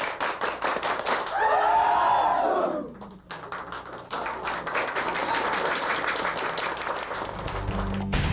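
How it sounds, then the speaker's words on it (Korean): Cambodian military cadets do a 3-3-7 clapping cheer after a meal. A loud group shout rises first, then falls away, and sharp claps follow in quick patterned bursts that carry on steadily to the end. "식사를 마친 생도들은 한국 교관들에게 배운 337 박수로 고마움을 표시했다"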